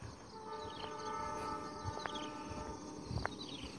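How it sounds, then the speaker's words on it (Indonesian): A train passes near rice fields, heard as a faint, distant rolling rumble with tonal horn-like hum, under insect buzz in an open outdoor setting. "Nah, itu suara keretanya terdengar ya teman-teman ya"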